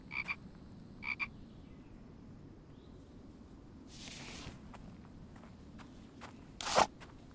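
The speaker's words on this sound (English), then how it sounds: "Is that frog?" In The Infected, a frog croaks twice in quick pairs early on, quiet against a low ambient bed. Later come a breathy burst and a sharp rustling crackle.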